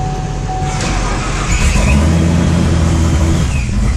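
Corvette engine running loud and close after a jump start with jumper cables, a steady rumble that swells and deepens partway through as it catches and settles.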